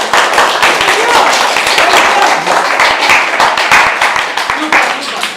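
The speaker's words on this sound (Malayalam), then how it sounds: "പാട്ട് ഇഷ്ടമെങ്കിൽ കൈയടിക്കാം." A live audience claps at a Christmas 2020 celebration after a song, making dense, steady applause with many overlapping hand claps. Voices can be heard faintly underneath.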